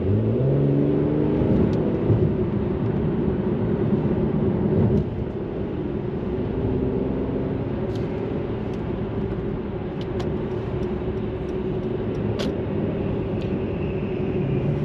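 A Mercedes-AMG C43 coupe's engine pulls steadily under light throttle on a cold day, a continuous close-up drone and whir that keeps going evenly with no voices over it.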